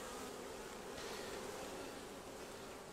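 Honey bees in an open hive hum as a dense, steady buzz that stays close and even throughout, without pauses.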